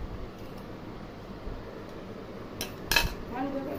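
Plates and serving spoons clink as pulao is dished out, a few light metallic taps and one sharper chink late on, heard faintly against a quiet room.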